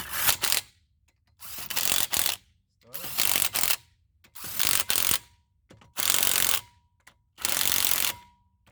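A ratchet works a lug nut during a front brake pad replacement on a 2008 Jeep Commander, sounding as six loud, close bursts of rapid clicking separated by short silences.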